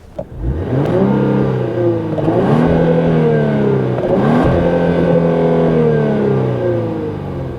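A Genesis GV80 AWD 3.5-litre turbocharged engine revs up hard through the exhaust, rising and falling in pitch across several pulls, loud and close with a steady deep drone underneath.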